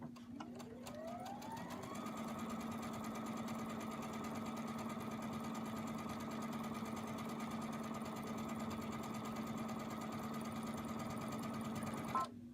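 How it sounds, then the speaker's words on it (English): Steady mechanical whir of a sewing machine stitching quilt strips, starting up and running at a constant fast pace for about twelve seconds, close and fairly quiet, with no talk. "So all I have to do to begin is just start sewing."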